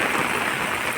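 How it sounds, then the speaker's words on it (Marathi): Steady, dense monsoon rain in the Konkan pours down without pause, a broad hissing wash close by with no voices or other sounds. "कसा बघा कोकणातला पाऊस"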